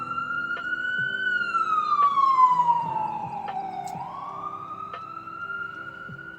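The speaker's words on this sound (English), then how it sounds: "There's sirens. We're gonna let them pass." A wailing siren sweeps down then back up in pitch as an emergency vehicle passes at moderate distance, with faint traffic rumble underneath.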